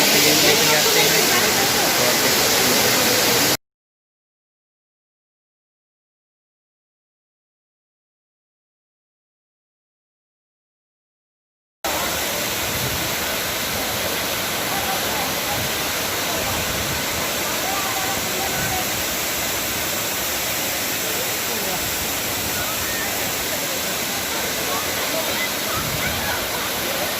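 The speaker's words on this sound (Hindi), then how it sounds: "ये है हमारा बागसुनाग वाटरफॉल" Bhagsunag waterfall roaring with a dense, steady rush of water, loud and close, cut off by several seconds of total silence before the constant roar resumes.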